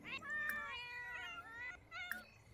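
A cat in The Sims video game meows in two drawn-out, whiny calls with a pause between them, quiet and clear, and nobody speaks over them.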